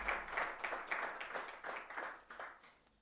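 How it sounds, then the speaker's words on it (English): A small audience at a book launch claps briefly, a thin scattered round of hand claps that is fairly faint and fades out over a few seconds with no voices on top. "give them a round of applause to just say thank you for this important offering"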